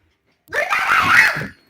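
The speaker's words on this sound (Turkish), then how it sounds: "Bağırma kızım niye bağırıyorsun?" A girl screams once, a single loud, shrill cry lasting about a second, close and alone, starting abruptly and trailing off.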